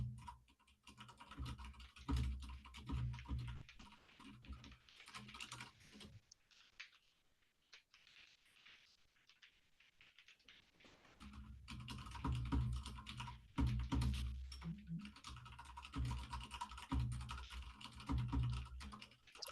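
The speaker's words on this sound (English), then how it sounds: "typing." Typing on a computer keyboard during an online meeting comes as a busy, close patter of keystrokes, with a quieter pause in the middle before the clicking picks up again.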